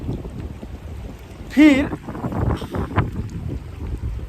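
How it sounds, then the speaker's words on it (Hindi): Strong wind blows outdoors, a loud, steady low buffeting rush against the microphone throughout, with a person briefly speaking and a short tonal vocal sound partway through. "यहाँ पे हवा चल रही है, बहुत ही तेज हवा है।"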